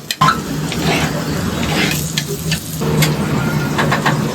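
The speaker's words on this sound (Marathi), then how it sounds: "आता टाकणार आहे कांदा" Onion dropped into hot oil with cumin and mustard seeds, sizzling loudly and steadily up close, with stirring scrapes over the frying.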